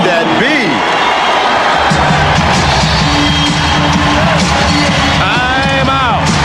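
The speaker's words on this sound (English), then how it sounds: "The Phoenix crowd has awakened." Crowd cheering in the Phoenix basketball arena during a 1994 NBA playoff game, a loud continuous roar with a commentator speaking over it.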